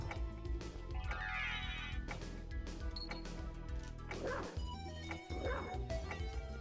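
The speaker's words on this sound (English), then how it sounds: "Oh, I can bark at the lanterns?" Barking from the wolf form in Castlevania: Symphony of the Night, a few short game barks and yips over dense, loud background music and effects.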